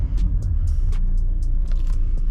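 Car interior rumble while driving on the road, a steady low drone with faint ticks and small rattles on top.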